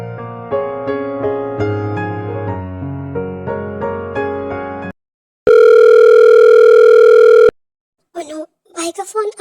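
Phone ringing: a loud, steady electronic ring tone that starts after a short stretch of music and holds for about two seconds before cutting off, followed by brief speech.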